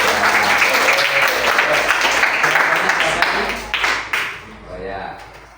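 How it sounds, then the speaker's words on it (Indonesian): Classmates clap for a student group at a school lesson, steady dense applause that runs for about four seconds before tapering off unevenly, with some voices at the end. "Tepuk tangan dulu ya"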